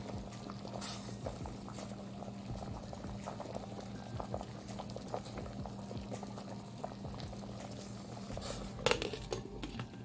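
A pot of potatoes boiling steadily on the stove, a continuous low bubbling and rumbling with small pops and crackles throughout, fairly quiet and close, with no voices.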